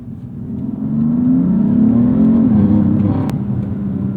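A modified 2016 BMW M3 F80 engine accelerating hard, a close, loud, rising drone that climbs in pitch with a short crack near the end.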